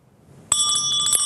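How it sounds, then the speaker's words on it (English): A bright bell rings once close up, a sudden metallic strike that keeps sustaining with a shimmering ring and quick repeated taps, alone with no voices. "When the bell rings"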